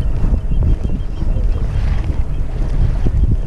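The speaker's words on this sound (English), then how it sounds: "It's getting a little windy, windier than I thought out here." Steady wind buffets the microphone with a low rumble while paddling a Hobie Mirage Passport 10.5 kayak on open water, constant and loud with gusty swells and no talk.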